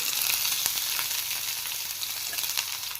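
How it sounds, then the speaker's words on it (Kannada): Crushed garlic and finely chopped onions fry in a pan with a dense, steady, close sizzle that holds at an even level throughout, with occasional faint pops. "ಇದನ್ನು ಗೋಲ್ಡನ್ ಕಲರ್ ಬರೋವರೆಗೂ ಫ್ರೈ ಮಾಡ್ಕೊಳ್ಳಿ"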